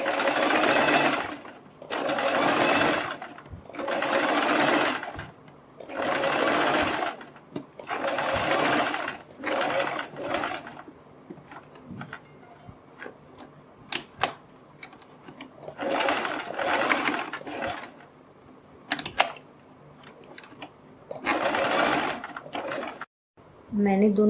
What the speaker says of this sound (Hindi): हम अब इनके ऊपर सिलाई लगाएंगे। वो सिलाई हम यहाँ से लगानी शुरू करेंगे।